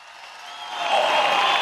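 A rally crowd in Konya applauds for Ekrem Başkan, a broad wash of clapping that swells from moderate to loud and holds steady at its peak.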